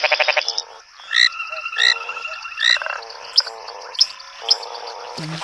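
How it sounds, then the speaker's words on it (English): Foam frogs croak at a waterhole, a dense chorus of overlapping rhythmic croaks and repeated calls, loud and close, with a few sharper chirping notes. "If you're a female foam frog, a single partner is simply not enough"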